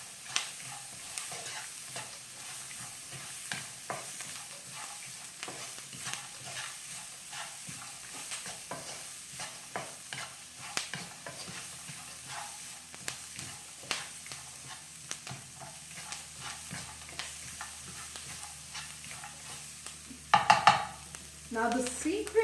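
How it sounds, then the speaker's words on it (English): Onions fry in a pan for poha with a soft continuous sizzle and frequent light scraping stirs, fairly quiet and steady throughout, with a short louder clatter of the spatula near the end. "I'm going to go ahead and cook this till the onions become slightly brown, very light brown, not too much."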